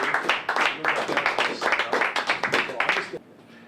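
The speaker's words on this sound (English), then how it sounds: "A really good round of applause." An audience at a poetry reading in a venue claps to welcome a poet, a lively burst of many hands that is loud and close, then fades out abruptly near the end.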